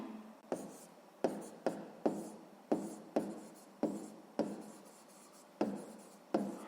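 A pen writing on paper, close and quiet, in a run of about a dozen short sharp strokes at a fairly steady pace, each stroke trailing off before the next, with no voices.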